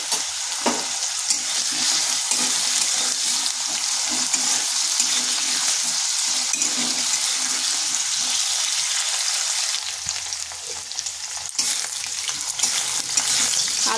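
Long-cut potato strips with a little salt fry and get stirred in a pan, giving a loud, unbroken crackling sizzle that runs steadily throughout with only slight dips.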